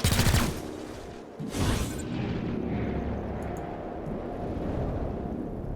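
Gunfire in the video game XCOM Chimera Squad during a breach: a loud, dense burst of shots at the start, a second burst around the middle, then a sustained noisy combat rumble.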